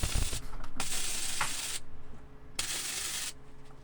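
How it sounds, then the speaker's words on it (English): A steel gas bottle being welded into a wood stove, loud crackling arc hiss in two sustained bursts separated by a quieter gap, close by. "I'm now welding in the top one"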